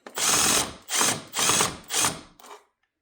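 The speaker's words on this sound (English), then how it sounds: "push the device up against the box, and then screw it in" A cordless power driver runs a screw that fastens a light switch into an electrical box, in four loud close bursts of whirring ratchet buzz with short pauses between them and a brief final tap.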